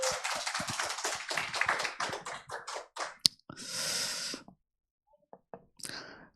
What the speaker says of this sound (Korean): 한 해 동안 우리에게 은혜 주신 하나님께 다시 한번 영광의 박수 드리겠습니다.